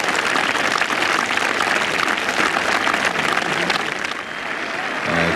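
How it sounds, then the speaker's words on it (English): Sustained golf gallery applause at the 1986 Open Championship at Turnberry, a dense, steady wash of clapping from a large crowd that holds for several seconds and eases slightly near the end. "Tremendous applause for Ian Woosnam and Gordon Brand."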